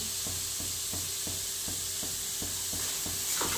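Paneer bhurji sautés in a hot pan with a steady sizzle and a regular rhythm of about ten spatula taps and scrapes, close by, with no talk.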